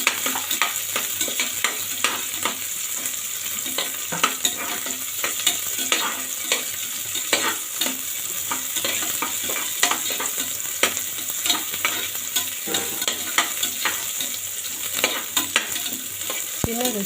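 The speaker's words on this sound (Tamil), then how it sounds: "வெங்காயம் நல்லா வதங்கணும்." Onions sauté in a pan with curry leaves and fennel, giving a constant hissing sizzle. Quick spatula scrapes and taps sound at a brisk rhythm throughout, close and clear, with no voices.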